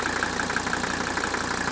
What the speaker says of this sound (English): You can hear that distinct rattle of the engine at idle.